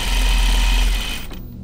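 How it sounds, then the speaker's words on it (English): A sewing machine stitches a jacket seam on a Wiksten Unfolding Jacket pattern, giving a loud, steady, close mechanical buzz that runs for over a second, then stops abruptly. "I'm gonna sew this again because I forgot my stitch length was just"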